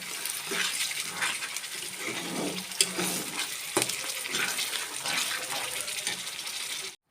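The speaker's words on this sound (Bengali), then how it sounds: "মাথাটা দিয়ে দিয়েছি পেঁয়াজটা একটু ফ্রাই হয়ে যাক" Onion frying in oil and ghee in a home kitchen pan, a continuous crackling sizzle with a few sharp clinks of a utensil against the pan, moderately close and steady until it cuts off.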